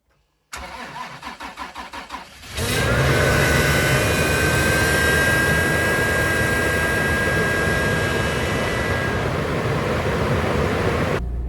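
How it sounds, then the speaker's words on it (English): A Toyota 4Runner is started at minus 8°F (minus 22°C): about two seconds of rhythmic cranking, then the engine catches and settles into a loud, steady, high-revving idle close by. "Let's see if the Forerunner starts."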